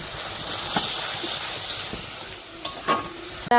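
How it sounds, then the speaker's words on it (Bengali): Chicken stirred and sizzling in a hot pan with turmeric and chili powder: a steady close frying hiss, with a few scraping stirs and clatters of the spoon toward the end. "এই যে চিকেন দিয়ে কষাচ্ছি, দেখতে পাচ্ছ"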